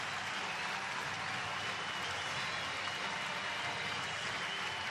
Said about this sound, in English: The opposing bench standing and applauding as well.